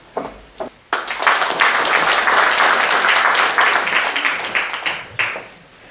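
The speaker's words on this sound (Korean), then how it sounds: "여러분 뜨거운 박수로 환영해 주시기 바랍니다." Audience applause greeting an education superintendent arriving to give a congratulatory address at an anniversary ceremony for a Busan filial-piety association; a few scattered claps, then a sustained, dense round of clapping that tails off near the end.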